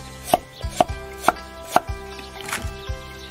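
A knife chops scallions and ginger on a cutting board in crisp, close, evenly spaced strikes, with about half a dozen sharp chops and no talking.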